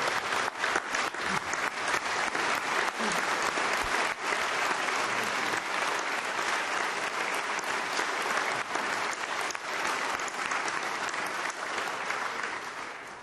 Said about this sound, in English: I think we all know that that's sympathy, applause for her, and it's well-deserved